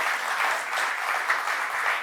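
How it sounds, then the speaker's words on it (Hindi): An audience claps loudly at a formal gathering in India, with steady, dense applause filling the whole stretch and no speech over it. "तो आज खूब ज़ोर से इनके लिए ताली बजा दीजिए आप सभी लोग।"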